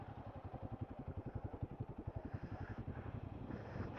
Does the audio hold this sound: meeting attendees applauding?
no